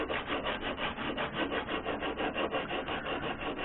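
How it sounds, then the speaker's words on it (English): Coarse 60 or 80 grit sandpaper worked back and forth over a metal transmission linkage part from a 1987 Jeep J-20, giving a steady rhythmic rasping scrape, close and continuous with regular strokes. "This has got to be 60 or 80 grit sandpaper."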